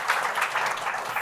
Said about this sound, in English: You guys can applaud.